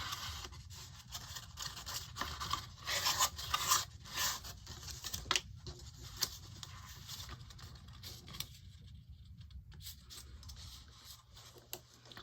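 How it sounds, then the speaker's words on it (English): A glue spreader smears glue across the front page of a hardcover sketchbook, giving a steady scraping, rubbing texture with brief scratchy bursts and a short quiet gap near the end, close and without talk. "Use your trusty glue spreader."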